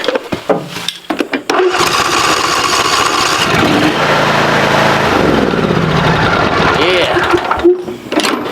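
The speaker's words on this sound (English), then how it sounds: "I'm gonna see if this thing will crank." A riding lawn mower engine cranks briefly and catches, then settles into a loud, steady running drone close by, with someone talking over parts of it.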